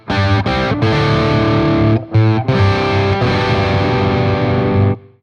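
Heavily distorted electric guitar plays a short opening phrase from a riff, loud and solo with sustained chords and a brief break partway, with no voices.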